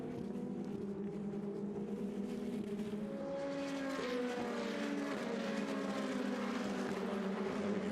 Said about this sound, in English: You hear the noise of the engines winding up as they come up the main straightaway going south to north.